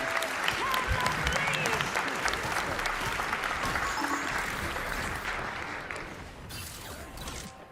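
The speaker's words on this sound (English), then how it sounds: "hold your clapping" Sustained applause and clapping from an audience, dense and steady for several seconds before gradually thinning out toward the end, with faint voices underneath.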